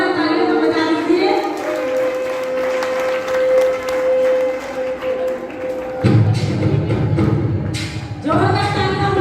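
An audience at a Jain women's group stage play in Roorkee claps loudly and steadily in sustained, dense applause over a held musical drone, with a voice speaking over the crowd near the end.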